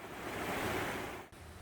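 Rushing water of a mountain valley stream beside a rest shelter, a loud, steady broadband wash heard close and alone, with a brief dip near the end.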